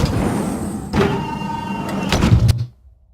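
A mechanical door in the video game Arma 3 slides open with a steady whirring hum, a couple of clunks along the way, and a final thud as it stops.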